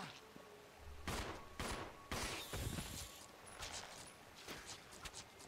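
Pistol gunfire in the Resident Evil 0 video game: several sharp shots in an irregular burst, fairly loud against quiet game ambience.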